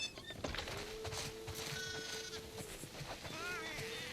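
Sheep bleat repeatedly in The Last of Us Part II, with several wavering calls over a steady game ambience and a low held drone, moderately close.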